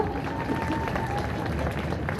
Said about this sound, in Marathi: हात वर करून टाळ्या वाजव हो.